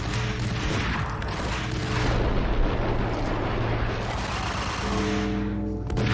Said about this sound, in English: Oh no, grenade!